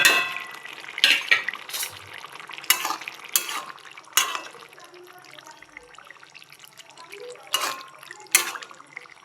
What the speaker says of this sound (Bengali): এই যে মাছ ভাজা দিয়ে দিই মাছের ঝোলে।